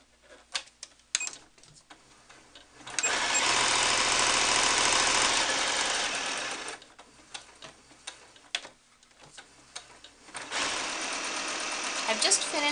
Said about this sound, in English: I'm going to start by sewing down the diagonal section and then continue around the outside of the piece